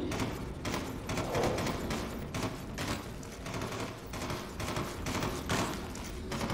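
Sustained automatic fire from an assault rifle in the top-down shooter Solstice Chronicles: MIA, a dense rapid rattle of shots continuing loud and steady throughout, with bursts of impacts and no speech.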